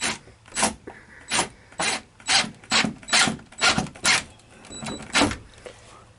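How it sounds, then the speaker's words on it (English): A small screwdriver drives a screw into a light fixture, giving repeated rasping, ratcheting turns in a steady rhythm of about a dozen close strokes, with no talking. "Then we take our little screwdriver, and we hope we get it in."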